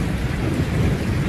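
Heavy rain pours steadily over a low thunderous rumble, a dense, continuous storm wash with no voices.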